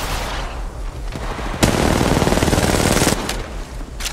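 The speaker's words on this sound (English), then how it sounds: "Getting shot at." Rapid automatic gunfire from a mobile shooter game on iPhone, a loud close burst of about a second and a half that rises out of quieter background game noise, followed by a few scattered distant shots.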